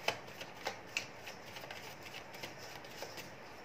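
Tarot cards are shuffled by hand in a quiet room, making soft riffling and flicking bursts with a few sharper snaps early on, close but faint.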